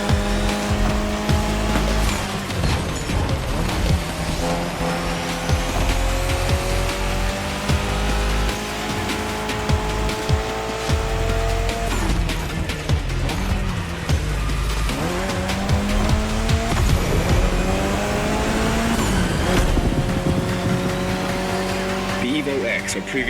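A Mitsubishi Lancer Evo X races hard in The Crew Motorfest, its engine rising and falling through gear changes with tires squealing and skidding throughout, loud and continuous under a backing track.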